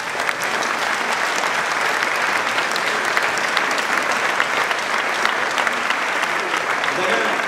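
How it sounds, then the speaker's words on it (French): Dense, steady clapping from a large audience at a French Socialist Party political meeting fills the whole stretch, loud and sustained without pause. "vous faites bien de l'applaudir"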